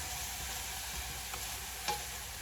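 Steak and vegetables sizzling on a hibachi grill, a steady close frying hiss with a faint scrape partway through.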